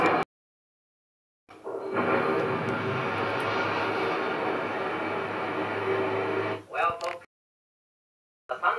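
A rocket engine ignites at a sun probe launch: after a brief silence, a broad roaring rumble swells up and holds steadily for several seconds, then cuts off abruptly, leaving short bursts of sound around it.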